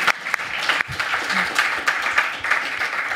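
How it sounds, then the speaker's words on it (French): An audience applauds a pun during a French comedic commentary segment about a politician, a dense wash of clapping hands that stays steady and fairly loud for a few seconds. "Applaudissements, s'il vous plaît, pour cette vanne."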